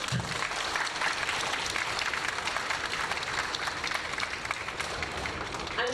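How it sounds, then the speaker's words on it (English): High school orchestra students on stage and the concert audience applauding together in a loud, dense, continuous burst of clapping that holds steady throughout. "give yourselves a round of applause"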